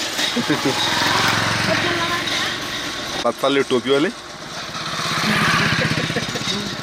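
Engine noise swells and fades as a motorcycle passes close by in a village during Dussehra, with someone speaking briefly over the rumble.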